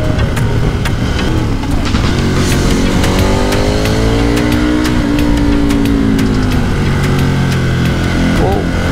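A KTM motorcycle riding along a coastal road and overtaking a van, the engine drone rising and falling in pitch as it revs through the gears, loud and steady with wind roar.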